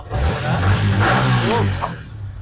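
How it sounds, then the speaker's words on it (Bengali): A motorcycle engine revs up close, a loud throaty rise and fall lasting a couple of seconds before easing off. "বাইকের আওয়াজটা অন্যরকম ভালো লাগে"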